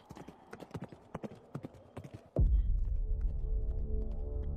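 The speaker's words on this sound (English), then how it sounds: "Oh, that's a ghost horse." A ghost horse's hooves clip-clop in a quick run of sharp, distinct beats, then give way to a loud, low, steady rumbling drone.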